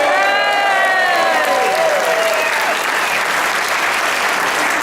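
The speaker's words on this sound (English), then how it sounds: "let's hear it as a big cheer for Relay for Life" A room full of people at a Relay for Life stand-up fundraiser bursting into sustained applause with whoops and cheers, dense and loud throughout, with a few high shouted cheers rising over the clapping early on.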